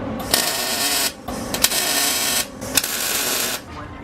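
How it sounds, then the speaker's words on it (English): A steel bracket plate for an engine mount on a K20 AWD wagon is welded in short, crackling buzzing bursts. Brief pauses separate each stretch of arc, all heard close up. "So I'm gonna go ahead and weld this right now"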